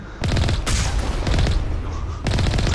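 Rapid bursts of automatic gunfire crackle continuously in a Mass Effect 1 Legendary Edition battle, with dense overlapping shots and short pauses between volleys.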